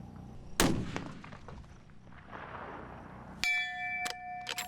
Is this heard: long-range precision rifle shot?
yes